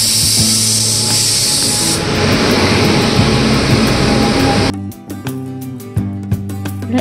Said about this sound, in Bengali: ট্রেন এখন সিগন্যাল না পেয়ে এই স্টেশনে দাঁড়িয়ে পড়েছে